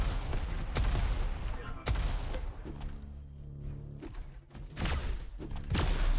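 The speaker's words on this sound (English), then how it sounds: "that Void Cannon Blast will surely just make Vigur fall back" Heavy Void Cannon blasts from the arena shooter Diabotical, a string of loud, booming broadband hits and thumps spread across the stretch amid continuous dense game noise, with a quieter humming lull in the middle before the blasts resume.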